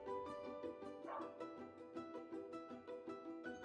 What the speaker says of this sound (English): Yes, it was a dog.